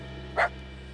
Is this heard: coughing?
no